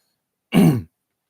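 A single short, gruff throat clearing, close and loud, in otherwise silence.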